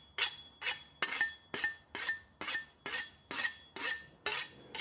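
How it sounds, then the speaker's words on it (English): Kitchen knife drawn repeatedly along a sharpening steel, about ten crisp metallic scraping strokes in a steady rhythm, close and clear with no talking. "Start the live by sharpening up the knives."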